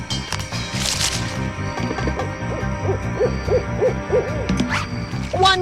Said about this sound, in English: That owl's waiting up too!